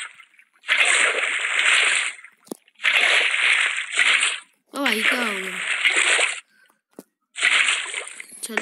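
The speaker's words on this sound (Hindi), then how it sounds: "ओ पानी में गिर गया।" Repeated splashing and sloshing bursts as a Minecraft player falls into and moves through water, several loud watery surges separated by brief pauses.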